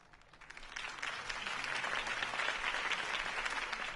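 Crowd applause in a Batman video game after a Harvey Dent campaign speech, clapping building from sparse to a steady, moderately loud wash of many hands, no talk over it.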